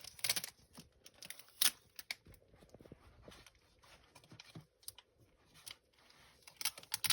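Scattered crisp snips and rustling paper as scissors cut out a paper duck, several quick cuts close by with pauses between, no voices.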